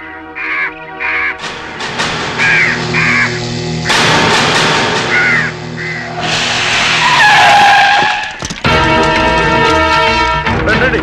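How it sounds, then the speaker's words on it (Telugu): Crows caw in loud, repeated harsh bursts amid a dramatic film scene, interleaved with sharp car skids and tire squeals that cut in and out. "ఈ ఏరియాలో ఒక్క కాకి కూడా ఉండాలని వీలేదు."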